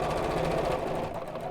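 A sewing machine runs steadily, stitching down the edge of a fabric Biscornu zipped pouch, its close, even motor hum and needle rattle continuing without pause.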